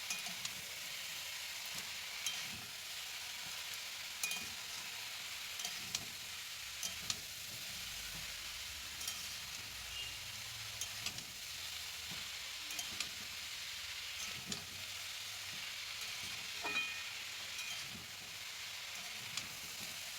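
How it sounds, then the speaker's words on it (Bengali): Chunks of bottle gourd sautéing with spices in a pan, a faint, steady frying hiss with occasional soft clicks of a utensil stirring, quiet and even throughout. "ভালোভাবে কষবো, যাতে লাউর জল ভালোভাবে বেরিয়ে আসে"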